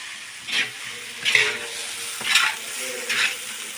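Garlic fries in an iron wok with short bursts of stirring and sizzling, four distinct scrapes and hisses spaced about a second apart, close and fairly loud.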